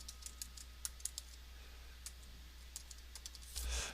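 Keys tap quietly on a computer keyboard as shortcut combinations are pressed, a sparse scatter of clicks at uneven intervals, ending in a brief rustle. No talking.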